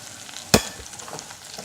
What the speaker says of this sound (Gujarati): ગેસની ફ્લેમ આપણે ધીમી જ રાખવાની છે અને ધીમા ગેસ પર જ આ રીતે આપણે કન્ટિન્યુ ચલાવતા રહેવાનું છે।